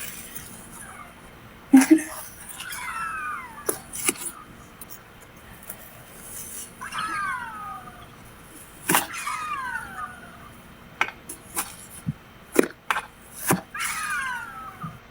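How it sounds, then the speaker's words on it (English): Sharp, scattered cracks of partly frozen meat being broken apart, several loud snaps spaced irregularly while someone talks over them. "it's some parts that's still a little frozen, so I'm in here breaking it up."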